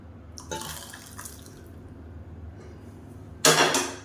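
Mutton bone rasam poured into a pot: a short splash of liquid, then quiet dripping, ending in a louder gush near the end, close up with no voices.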